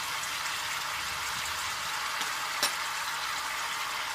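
Ackee cooking in a pan with black pepper, stirred gently with a spoon: a steady, close sizzle runs throughout with a faint scrape of the spoon partway through.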